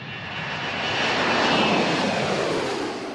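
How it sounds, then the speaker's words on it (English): A fixed-wing airplane passes overhead as a steady, broad engine roar that swells toward the middle and eases slightly at the end, loud and continuous with no voices, captured outdoors as raw material for a sword-slash sound effect. "Then I went out and recorded an airplane."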